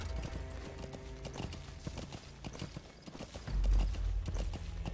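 Horse hooves clip-clop steadily in Metal Gear Solid V: The Phantom Pain, a quick trotting rhythm with sharp, close impacts, joined near the end by a louder low rumble of game action.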